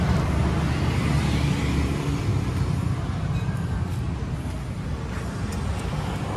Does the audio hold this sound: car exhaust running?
yes